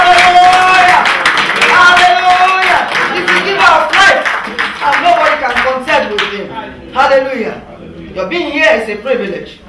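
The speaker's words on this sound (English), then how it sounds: "Let's clap our hands for him." A congregation at a funeral service claps in celebration, sharp rhythmic hand claps running under singing or chanting voices, loud and close before thinning toward the end.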